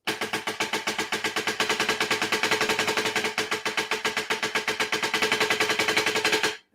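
A percussion etude for All-State auditions, played as fast, even strokes in a steady stream that shift unevenly from sixteenth notes to sextuplets. The playing is loud, close and continuous, with no talking, and stops abruptly at the end.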